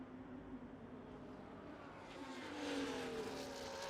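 Onboard engine of a Ferrari race car in an Australia-round racing video game, a steady droning whine that climbs in pitch and grows louder near the end, with no talk over it.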